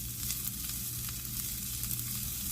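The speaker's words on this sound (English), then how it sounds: "simmer in this butter and garlic for about 3 minutes" Asparagus spears simmer in butter and garlic in a pan over medium-low heat, giving a steady, close sizzle and crackle that runs unbroken throughout with no voices.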